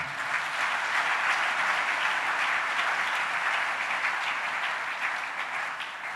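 Sustained applause from a church congregation during a family worship service, a dense, steady wash of many hands clapping with no voices above it.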